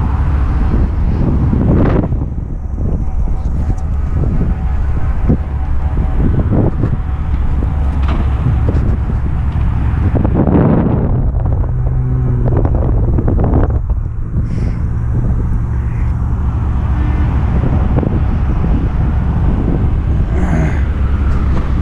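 Strong gusty wind roaring across the microphone outdoors beside a burning tractor-trailer in Villa Rica, a loud, steady low rumble throughout with faint background noises.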